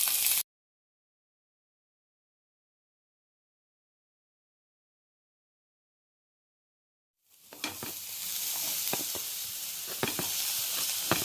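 Frying in ghee in a pan while making tofu salad: a brief hiss at the start, silence, then a steady, close sizzle with stirring clatter that continues to the end.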